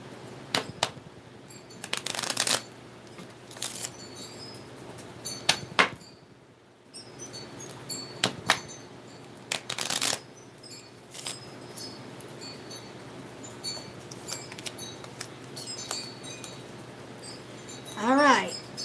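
Tarot cards shuffled and handled during a reading, heard as scattered dry riffling bursts and soft snaps against a quiet room, with a brief voice near the end.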